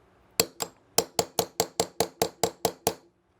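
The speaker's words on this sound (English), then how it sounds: "So we'll press that pin out and likely give it a few good taps on the bench block here." A hammer taps a 3/32 inch punch on a bench block to drive a pin out of a CZ 75 pistol, about eleven sharp metallic clinks in a quick, even rhythm, close and alone.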